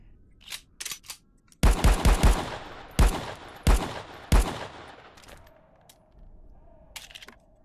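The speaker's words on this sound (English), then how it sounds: "every time that you pull the trigger, just like this 1911 here" 1911 pistol fired in a VR game: a series of sharp, loud gunshots, first a few quick pops, then a rapid cluster and three spaced single shots, tailing into a faint hum and quiet clicks.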